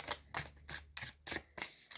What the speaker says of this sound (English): I'm going to give it a few more shuffles.